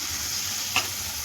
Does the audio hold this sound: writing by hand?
no